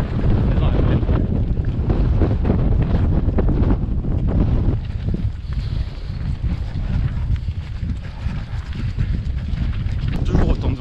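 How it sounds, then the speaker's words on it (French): Strong wind gusts across an open plain during a trail running race, roaring steadily and buffeting the microphone throughout, with brief talk mixed in. "Toujours autant de vent."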